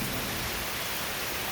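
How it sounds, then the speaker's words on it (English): A steady downpour of summer rain roars close by as unbroken broadband hiss, loud and even, with no talking. "yeah, raining pretty good."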